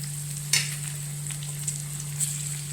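Soy, tomato and chilli sauces sizzle in a pan of mushroom manchurian, a soft steady fry under a constant hum, with a few sharp scrapes as the mixture is stirred.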